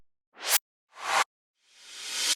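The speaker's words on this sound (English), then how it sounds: "short sweeps," Short noise sweeps from a melodic techno sample pack: three airy whooshes, each swelling in loudness and brightness before cutting off sharply, the last one longer and wider, with no talking.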